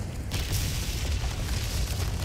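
Explosions rumble in the Resident Evil 4 Remake video game during a castle catapult fight, a dense continuous roar of booming blasts with a sharper burst near the start, loud and sustained without pause.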